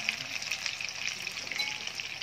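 Chicken pieces dusted with flour crumbs frying in hot oil, a steady dense sizzle with soft crackling pops running the whole time, moderately close and alone without voices.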